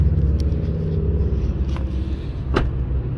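A car drives along the road with a steady low engine and tyre rumble heard from inside, broken by a few faint clicks and taps.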